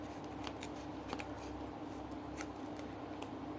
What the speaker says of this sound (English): I'm going to tear these edges